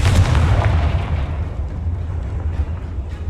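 Confringo explosive spell in the Hogwarts Legacy video game, one loud, close, booming blast at the start followed by a rumbling roar that slowly fades away.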